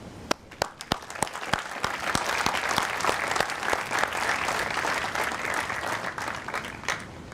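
Sustained applause from a large audience at a 2024 college graduation ceremony honoring the graduating class, with some sharper individual claps at the start before it settles into a steady, dense wash of clapping.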